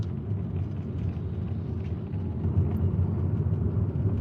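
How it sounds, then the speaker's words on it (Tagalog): Steady low rumble of traffic in downtown San Fernando, Pampanga, engines idling and crawling close by at a constant level with no clear single vehicle standing out. "sa mismong downtown, wala na, traffic na"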